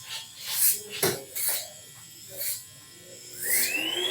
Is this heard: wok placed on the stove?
no